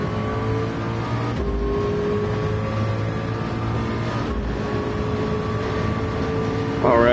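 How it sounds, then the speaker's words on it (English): A McLaren race car roars past in the 24 Hours at Le Mans VR racing game, its steady high engine drone holding pitch under continuous in-car engine noise, with a brief gear-change surge near the end. "here comes the McLaren."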